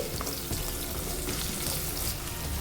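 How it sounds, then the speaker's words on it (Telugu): Chopped onion fries in a pan for tempered gongura, giving a steady, close crackling sizzle throughout with small bursts of spatter and no voices. "చూడండి ఉల్లిపాయలని ఈ విధంగా ఫ్రై చేసుకుంటే సరిపోతుందండి"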